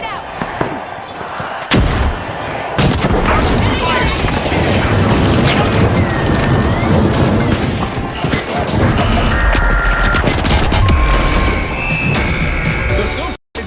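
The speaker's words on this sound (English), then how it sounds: "Frag grenade out." A frag grenade blast in the combat game The Finals, loud crashing booms and smashes amid continuous gunfire and chaotic match noise, with voices talking over the action.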